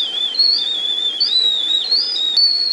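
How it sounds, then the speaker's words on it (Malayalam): A steady, wavering high-pitched whistle, like steam escaping a pot, plays alone and fairly loud without pause, from a pot steaming Pesaha Appam (Inri Appam). "നല്ലപോലെ ആവി വന്നു തുടങ്ങി"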